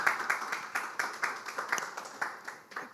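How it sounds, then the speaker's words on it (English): Audience at a panel session clapping, a sparse pattern of separate claps from a small group, moderately close and rhythmic, with no one talking. "Please, I think we should clap to that."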